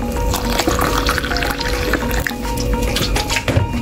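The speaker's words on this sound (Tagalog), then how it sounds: "Lagyan natin ng tubig na mainit" Hot water pours steadily into a cup holding a pack of Mama Sita's kare-kare mix, a continuous close, bright liquid splashing that runs for a few seconds without pause.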